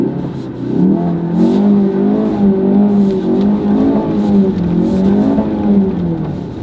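Ford Focus RS on summer tires driving through deep snow, its engine droning loud and close with a sustained, wavering rev that rises and falls steadily for several seconds, no talking.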